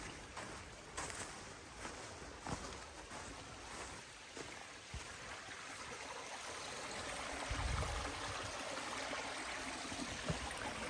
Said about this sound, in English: There must be another waterfall.